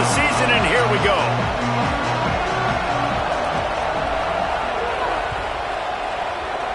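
A home crowd at a college football kickoff in the video game College Football 27 gives a dense, sustained stadium roar, with someone commentator's voice speaking over it at the start.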